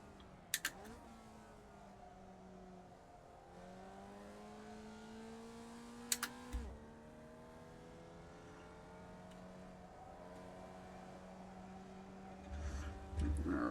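Formula race car engine in iRacing revving and shifting through a lap of a road course, steady harmonic drone rising in pitch between gear changes, with brief clicks and a louder burst near the end.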